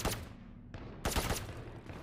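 Pistol fire with a weapon skin in the Valorant video game: loud, sharp game gunshots, with a couple of bursts close together and a pause between them, and no talk.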